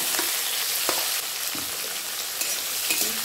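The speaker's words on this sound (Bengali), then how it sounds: "টমেটোটা দিয়ে খুব ভালো করে ভেজে নেব" Chopped green tomato fries with asafoetida in a hot pan, giving a steady, close sizzle with occasional scrapes of stirring throughout.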